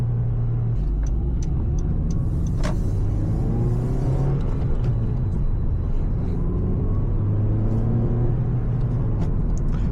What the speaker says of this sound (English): this car still runs so smooth